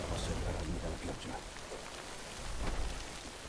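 Rain falls in the video game Death Stranding, a steady dense hiss with soft low rumbles, moderately loud and continuous with no speech over it.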